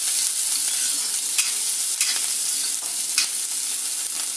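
Chopped onion sautés in a pan for mango pachadi, giving a continuous bright sizzle with occasional stirring scrapes and clicks of a spoon, close and steady with no talking.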